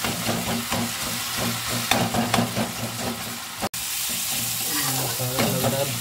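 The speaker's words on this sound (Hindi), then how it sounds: "इस पर हल्का हल्का हमें कल्ची चलाते रहना जिससे अच्छा से पिस जाए।" Masala spices frying and sizzling in a pan for an egg curry while a ladle stirs and scrapes steadily, close and fairly loud, with a brief pause partway through.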